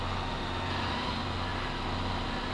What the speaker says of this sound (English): That sound is your PTO and your RPMs kicking up on your tractor.